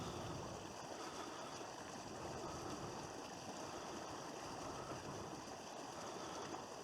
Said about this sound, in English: Don't know if you can hear the water.